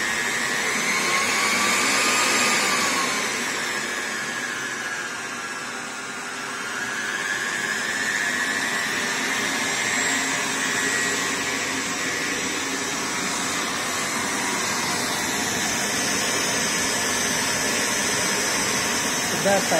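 A homemade central vacuum cleaner running with a loud, steady rushing whine of motor and airflow, pitch wavering slightly, while a voice talks over it.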